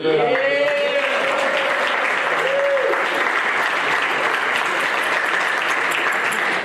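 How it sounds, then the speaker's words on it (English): A large crowd at a Pro Football Hall of Fame ceremony in Canton, Ohio applauds steadily and loudly throughout, a dense continuous clatter of clapping with a brief voice at the start. "And our last round of applause once again for our media, the Kevin and Kevin Show."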